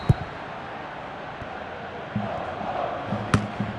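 A stadium crowd at a football match roars after a goal, a dense, steady wash of noise that swells in the second half with voices chanting and shouting, punctuated by a couple of sharp bangs near the start and end.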